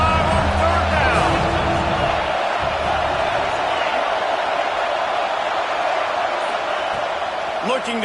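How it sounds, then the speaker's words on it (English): Ohio State home crowd in a college football video game against Clemson, a dense steady stadium roar filling the background on third down, with a commentator's voice over it. "The Buckeye crowd alive on third down."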